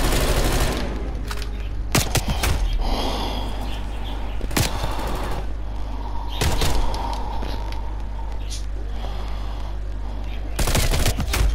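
Rapid bursts of video-game gunfire in a free-for-all match, loud and close, with several sharp clusters of shots separated by busier stretches of game noise.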